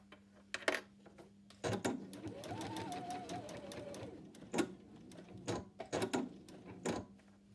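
A sewing machine stitches along a tie in one short whirring run, followed by scattered clicks and knocks of fabric handling and machine adjustment nearby.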